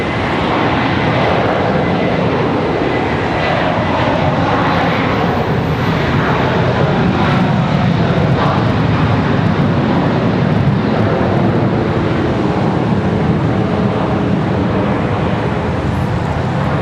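An Airbus A321 jet airliner at Charlotte Douglas International Airport gives a loud, sustained engine roar and rumble that holds for the whole stretch, with distant traffic-like noise in the background.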